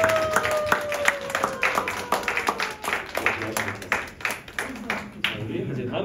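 A church youth congregation at Sunday worship claps hands in a loud, uneven burst of many individual claps, thinning toward the end as voices murmur underneath.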